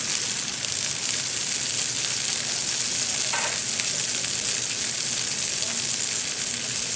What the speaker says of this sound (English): You're looking to hear that sizzle immediately.